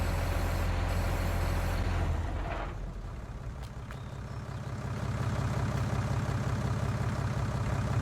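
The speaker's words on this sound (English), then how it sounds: "I don't think the engine's even going to get even warm on this tractor" A tractor engine in Farming Simulator 19, pulling a spreader, holds a loud, steady mechanical drone. It eases down for a few seconds, then swells back to full strain, with no talking.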